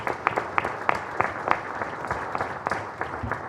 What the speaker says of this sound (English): Can we give them a big round of applause for the support of that?